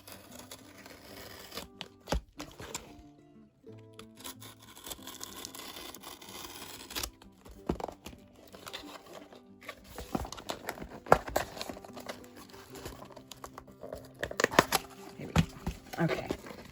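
Parcel packaging being cut and torn open during an unboxing of washi tape and stickers, with close rustling, crinkling and scraping in irregular bursts that grow busier toward the end, no voices.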